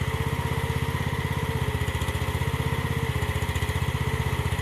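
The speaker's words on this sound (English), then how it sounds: "I have the RPM of the machine way down so that the hydraulics aren't strong enough to flip the tractor over." A small AGT MX15R mini excavator engine idles at low RPM with its hydraulics turned down, giving a steady, close, rhythmic chugging drone throughout with no pauses or speech.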